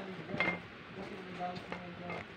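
A spoon scrapes and clinks against a pan as coconut milk and sugar are stirred together for moron, making a few soft, quiet knocks while someone speaks over it.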